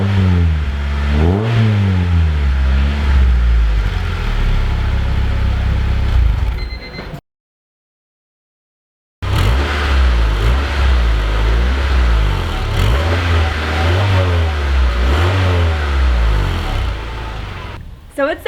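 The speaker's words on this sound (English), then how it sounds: "we need to go ahead and test it out and hear what it sounds like" Honda Civic EK coupe fitted with a Tanabe Touring Medallion exhaust revs up and down in a series of loud, close throttle blips, with the engine note rising and falling. A brief silent gap breaks the revving partway through.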